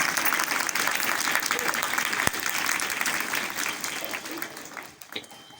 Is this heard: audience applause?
yes